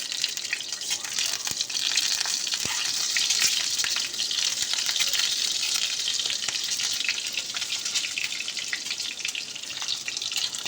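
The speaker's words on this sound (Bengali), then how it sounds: "এখানে তার জন্য দিয়ে দিয়েছি আমি 2 টেবিল চামচ সরষের তেল দিয়ে ডিমগুলোকে ভেজে নেব।" Boiled eggs fry in mustard oil in a pan, giving a steady, close, loud sizzle that crackles continuously throughout with no talking.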